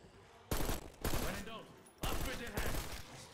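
Loud bursts of rapid gunfire from a weapon in Call of Duty's Liberty Falls zombies map, four dense volleys of roughly half a second each separated by brief pauses.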